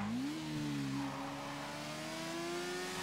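A motorcycle engine in GTA RP revs up and holds a steady, rising drone during an escape, loud and close with no talk over it.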